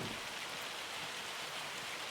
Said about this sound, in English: Great. Hail.